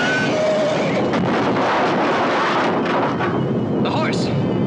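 A loud, rolling rumble of thunder from lightning booms and crackles continuously, with a higher whine rising briefly near the end.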